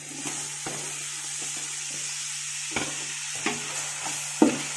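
Tomatoes and green chilies sauté in oil for chicken dum biryani, a low steady sizzle close by with occasional sharp knocks and scrapes of a spoon stirring the pan, no talking.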